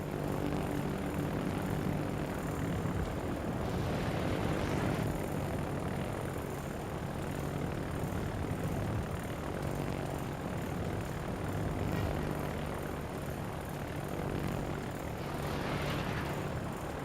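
Fighter aircraft propeller engines in the video game World of Warships drone steadily overhead, a continuous, moderately loud hum that swells slightly at moments.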